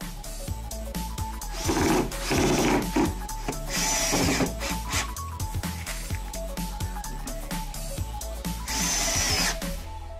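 A power drill drives screws into wooden pallet planks for a homemade beer advent calendar, with repeated short whirring bursts and brief pauses between them, up close and steady.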